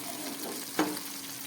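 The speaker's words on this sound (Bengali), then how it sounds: "ঢাকা খুলে আমি আরেকটু গ্যাসটা মাঝারি আছে করে এটা খুব ভালো করে ভেজে নেব" Prawn and poppy-seed bottle gourd leaf fritters fry in a pan over a medium gas flame, a close steady sizzle with one brief clink partway through.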